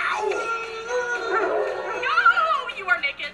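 Howling from the animated film Zootopia trailer, a wavering drawn-out animal howl with rising and falling pitch, joined by further yips and howls near the end, loud and up close.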